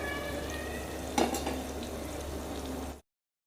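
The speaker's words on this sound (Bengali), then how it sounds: "পটল ভাজাটা বসাই দিচ্ছি" Pointed gourd (potol) fries in a pan with a faint, steady sizzle and one brief clatter of a utensil, then the sound cuts off.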